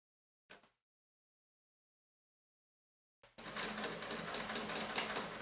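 A sewing machine topstitches a jeans waistband: a brief click, then silence, then the loud steady whir of stitching that begins abruptly and runs continuously to the end, with no voices.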